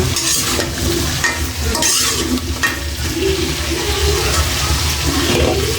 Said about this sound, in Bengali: এখন আমি ভালো করে বেজে নেব